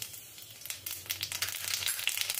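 Nigella seeds hit hot oil with a burst of crackling sizzle that grows denser and louder, popping in quick irregular spurts.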